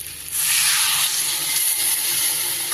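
Water poured into a hot pan of cooked-down masala sets off a sudden loud, sustained steaming hiss and sizzle that holds strong for a couple of seconds before easing slightly.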